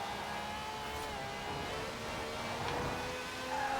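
Race car engine in Forza Horizon 4 held at full throttle in fifth gear, a steady loud drone with rising harmonic whine, continuous and close throughout without pause.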